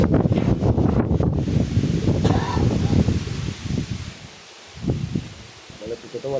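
Strong gusting wind from Typhoon Uwan, with rain, buffets the microphone in loud rumbling bursts that rise and fall, with rustling and a brief lull before the gusts return.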